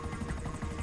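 A helicopter in GTA V Online thrums with a dense, rumbling rotor wash that fills this brief moment, steady and fairly loud with no voices.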